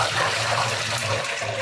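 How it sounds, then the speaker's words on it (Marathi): Starchy water from soaked potato slices for chips is poured steadily out of a cooking pot, a continuous close splashing gush with no voices. "आता हे स्टार्चचं पाणी पूर्ण टाकून द्यायचं."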